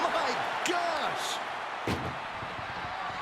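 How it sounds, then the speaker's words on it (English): A wrestler powerbombs an opponent into an ambulance in WWE 2K25 during Rhea Ripley versus Becky Lynch, landing as one heavy slamming crash amid whooshing game effects, while a commentator talks over the action. "Powerbomb into the ambulance?"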